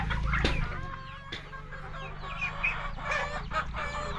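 Poultry loose outside a pen on a rural Filipino homestead, with ducks among them: continuous clucking and chattering calls over a steady low hum, some calls close and loud, others scattered in the background.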